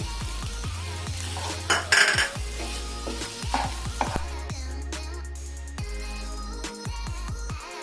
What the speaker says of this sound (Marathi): मटर टाकल्यानंतर अर्धा मिनिट हे हलवून घेते मी.